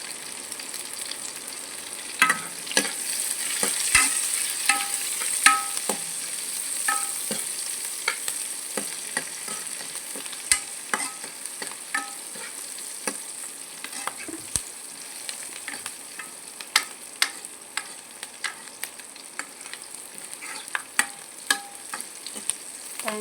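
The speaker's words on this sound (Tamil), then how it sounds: "இப்போ கருவேப்பிலை சேர்த்துக்கலாம்." Curry leaves frying in hot oil in a pan make a continuous close crackling sizzle for over twenty seconds, broken by frequent sharp pops and scattered stirring clicks, with no speech.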